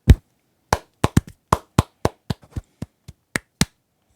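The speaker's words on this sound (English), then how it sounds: "Clap. Much clapping." Hand clapping, close and loud, about a dozen sharp separate claps spaced unevenly, starting with one heavier bassy clap, then quicker bright claps with silence between them.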